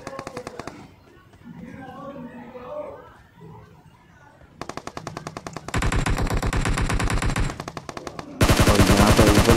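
A SCAR-L assault rifle fires in the PUBG video game, with rapid full-auto bursts rattling out between pauses and getting louder toward the end, while someone talks over the gameplay.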